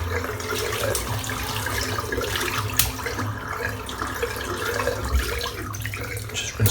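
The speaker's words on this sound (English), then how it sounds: "Just rinse the brush out." Shaving brush rinsed under a running bathroom tap: a steady, close splash and gurgle of water lasting throughout, with no talking.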